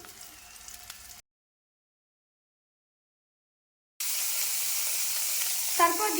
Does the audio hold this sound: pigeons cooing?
no